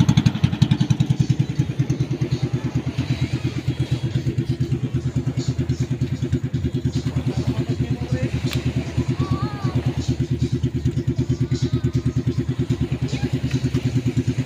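Motorcycle engines putter loudly nearby with a fast, steady idle rhythm, while voices talk and shout faintly in the background.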